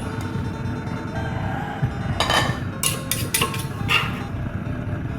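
Ingredients for Thai stir-fried eel with red shallots being chopped: a few sharp knife strikes on a board, then a quick cluster of clinking, metallic kitchen knocks close by against a quiet room hum.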